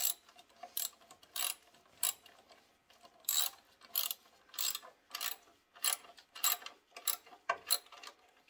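Ratchet wrench tightening a radiator bolt on a 1991 Ford Ranger XLT, a series of quick clicking bursts in irregular runs, close and moderately loud, with no talking.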